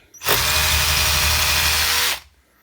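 A Parkside cordless hammer drill bores a hole for about two seconds, loud and steady from start to stop, with a sharp spin-up and quick wind-down and no talking.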